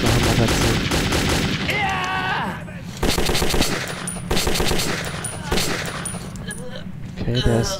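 Rapid automatic gunfire in the video game Metro 2033 rattles almost continuously in bursts, loud and close, with brief pauses between volleys and game effects mixed in.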